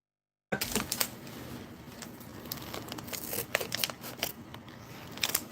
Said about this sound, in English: I just use a scissors to open that.